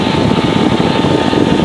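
The engine of a light aircraft roars steadily and loudly during climb-out after takeoff on a training circuit, with a constant droning propeller buzz close by and no pauses.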